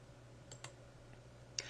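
A few faint, sharp computer mouse clicks in Excel while setting up a pivot table, spaced irregularly over a quiet background hum.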